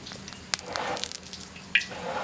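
Small wild fish going into hot oil in a wok, giving a short crackling sizzle with sharp spits and pops, close by and with no talking.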